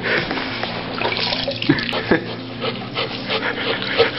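Water sloshes and trickles as it is poured over a dog during a bath, a continuous close splashing and rubbing sound with a few brief louder knocks, and no voices.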